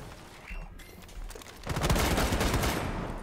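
Rapid bursts of gunfire in the video game Rainbow Six Siege, a few faint shots at first, then a loud, dense volley of automatic fire that keeps going to the end.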